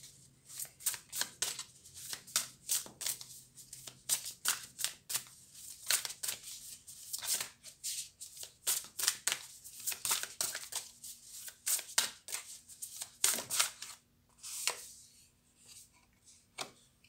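A deck of oracle cards being shuffled by hand, a long run of quick, crisp riffling and slapping bursts in an irregular rhythm, close and fairly quiet, with no one speaking.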